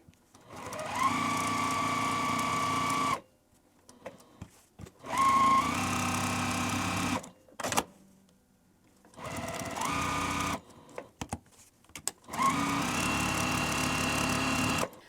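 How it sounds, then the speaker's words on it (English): A sewing machine stitches a pocket for a sherpa tote bag at a 1/4 inch seam allowance, running in four steady, loud bursts separated by short pauses, with faint handling sounds between runs. "And I am just sewing this using 1/4 inch seam allowance."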